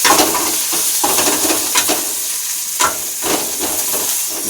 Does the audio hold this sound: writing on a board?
no